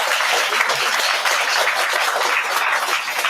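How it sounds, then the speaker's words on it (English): Dense, steady applause from a large audience at a graduation ceremony for a classical Indian music and dance school, loud and sustained throughout with no pauses. "So give all our teachers a round of applause for that."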